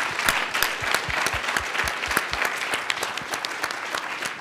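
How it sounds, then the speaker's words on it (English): A crowd claps steadily, a sustained burst of applause with individual claps audible, fairly close and even, fading slightly toward the end. "give yourselves a huge round of applause for 15 years of PowerShell"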